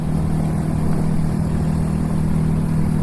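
A 2024 MUTT DRK 250 motorcycle engine hums steadily and loudly while powering through corners, a continuous drone with strong wind rush and no talking.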